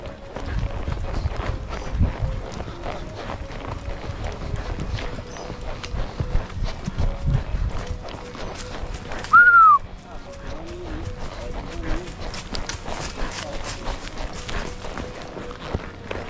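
A horse runs through brush while cattle are being rounded up in the scrub, with rapid hoof thuds and rustling in the first half, a sharp whistle midway, then quieter movement and some brief voices.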